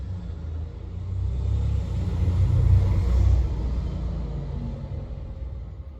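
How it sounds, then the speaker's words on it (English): Road traffic passing along a quiet cul-de-sac, a low rumbling vehicle that swells to a peak near the middle and then fades away, heard at moderate distance with no voices. "Considering this is a cul-de-sac, I've never known so much traffic come past."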